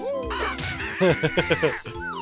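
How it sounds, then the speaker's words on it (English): Cuckoo birds scream from the walls in Banjo-Kazooie, a cartoonish series of about five quick, loud, cawing squawks in a rapid burst over game music. "I guess those are supposed to be like cuckoo birds"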